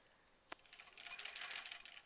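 A sewing machine stitches quilt blocks for a granny squares quilt in quick, faint bursts of needle clatter, opening with a single sharp click.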